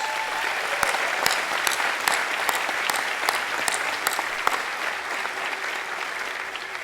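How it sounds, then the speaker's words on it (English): A commencement ceremony audience gives sustained applause for support staff, a loud dense wash of clapping that holds steady throughout with occasional sharper claps on top. "So please give them a great round of applause."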